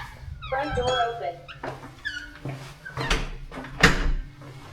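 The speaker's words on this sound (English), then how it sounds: "Front door open." A townhouse front door swings open with creaky, squeaking scrapes and a few knocks and thuds, close by in a room.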